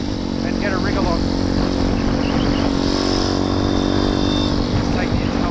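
Motorcycle engine running cold with the choke just taken off, steady broadband drone close by throughout while riding on a road, with wind rush and no clear talk.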